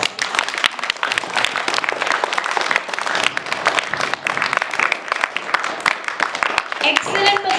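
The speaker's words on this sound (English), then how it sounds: "now clap for your mothers" Audience at a school English poem recitation competition claps for the mothers, brisk uneven clapping from a modest crowd with sharp individual hand strikes, fairly close and loud.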